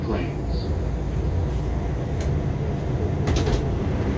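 A 1999-2003 Bombardier R142 New York City subway train bound for 238th Street runs with a steady rumble and hum inside the car. A few faint higher squeals cut through.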